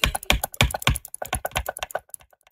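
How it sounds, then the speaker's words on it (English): Rapid, crisp computer mouse clicks during play of the puzzle game Plug & Play, arriving in quick repeated bursts up close and then thinning out, with no voices. "Double clicking!"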